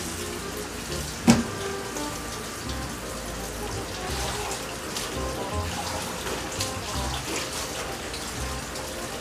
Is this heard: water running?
yes